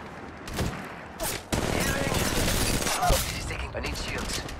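Rapid gunfire bursts from Apex Legends battle royale weapons, a dense crackling barrage that rises after a short lull, with a player speaking over the shooting.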